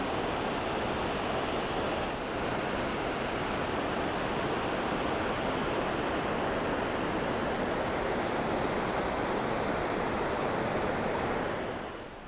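A thundering creek rushes far below a straight vertical drop in deep woods, a steady, dense roar of whitewater that holds evenly for about twelve seconds with no talking over it.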